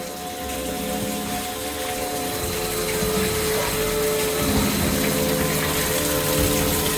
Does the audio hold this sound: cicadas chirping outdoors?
no